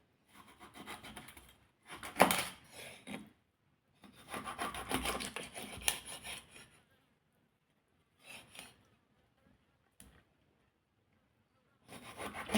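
A knife scrapes and cuts fresh mullet on a wooden board while preparing a Kerala-style coconut milk curry, coming in several rough, rasping bursts separated by quiet pauses.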